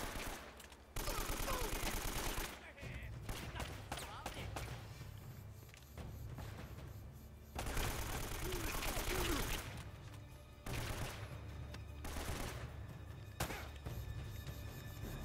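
Bursts of AK rifle fire in Uncharted: Drake's Fortune, loud rapid volleys separated by quieter gaps, with someone talking faintly in places.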